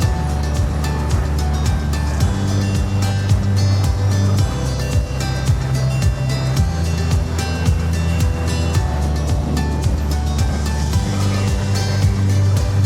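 Aboard a ferry crossing the ocean on the final leg home across Labrador waters, a constant loud engine drone mixes with rushing water and wind and carries on without a break.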